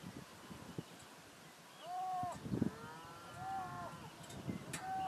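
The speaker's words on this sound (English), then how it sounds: "I don't know if you can hear this over the cows" Several cows mooing in a field at night, a few drawn-out lowing calls rising and falling over soft wind and rustling, moderately distant.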